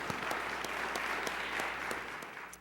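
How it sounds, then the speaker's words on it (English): A church congregation at a New Year's Eve service gives a sustained round of applause, many hands clapping in a dense, even wash heard somewhat distantly and fairly quiet. "So give yourselves a little round of applause."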